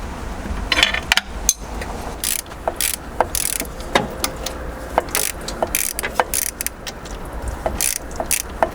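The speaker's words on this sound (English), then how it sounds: "Should we try your ratchet spanner on it then?" A ratchet spanner works on a part of a MK2 Golf diesel, heard as rapid clicking pawl ratchets and metallic clanks in irregular bursts, close and fairly loud, with no talking.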